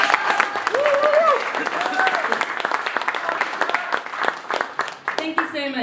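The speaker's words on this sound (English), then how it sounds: "Can we give Jack another round of applause?" Audience applause at a conference talk, clear clapping with a voice speaking over it near the start, then the clapping thins out before the end.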